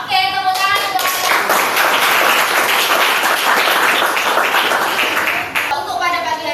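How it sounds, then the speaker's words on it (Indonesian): A classroom of students claps together in a dense, continuous burst of hand claps, with a voice heard at the start and again as the clapping fades. "Oke, tepuk tangan semuanya."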